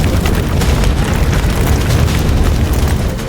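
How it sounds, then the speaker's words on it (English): Eruption of Merapi volcano rendered as a continuous deep, loud roaring rumble with dense booming bursts, sustained throughout without letup. "Merapi had officially erupted."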